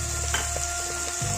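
Spices tipped into hot oil while cooking pumpkin with chana dal sizzle in a steady close frying hiss, with a faint clink of stirring partway through and no voices.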